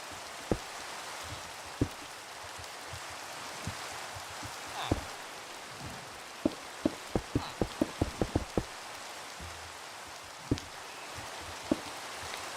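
Rain in a building video game, a soft steady hiss of rainfall with scattered sharp drip-like taps, some of them bunched together in a quick run.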